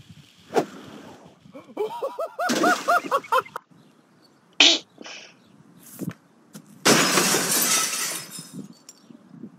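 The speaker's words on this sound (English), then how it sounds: "break glass pane in Minecraft" Glass panes break in Minecraft in several sharp shattering bursts, loud and close, spread out with pauses between them and mixed with short vocal sounds and other noises.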